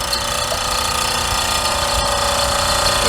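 Hollow chisel mortiser cutting wood: a continuous loud, dense machine roar with grinding, rattling texture, steady throughout and close, with no voices.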